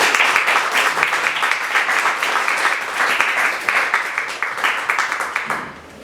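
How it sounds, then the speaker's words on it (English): After a speaker event talk by Professor Robert Wynne, the audience applauds him warmly and steadily for several seconds, then thins to a few last separate claps before fading out. "Can we give Rob a round of applause?"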